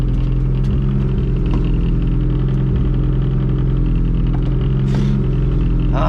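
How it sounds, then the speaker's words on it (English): A loud all-motor EF hatchback engine runs in a steady, heavy idle with a deep rumble, punctuated by a few brief blips of revving, with no talk over it. "This car's too fucking loud."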